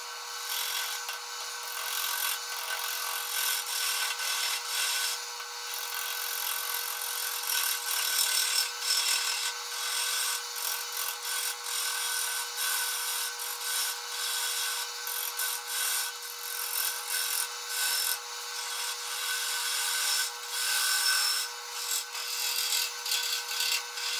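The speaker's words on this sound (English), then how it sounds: "As I'm turning off this piece where the tailstock is connected, I get my gouge a little bit too low and it grabs right" A gouge cuts a natural edge wooden bowl blank spinning on a lathe, giving a steady, loud scraping and rasping roar that runs without a break, with small surges in intensity and no voices.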